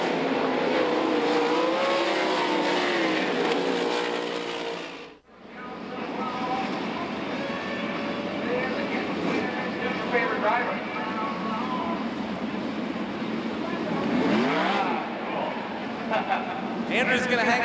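Race cars at Knoxville Raceway roar steadily around the track beneath a continuous announcer's commentary, the engine noise cutting out briefly before surging back loud and sustained.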